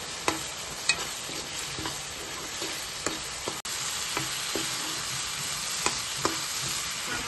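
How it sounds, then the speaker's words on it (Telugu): Masala paste fries in hot oil with a steady, even sizzle, broken by occasional light taps of a stirring spoon against the pan. "పేస్ట్ నూనె పైకి తేలేంత వరకు వేపుకోవాలి."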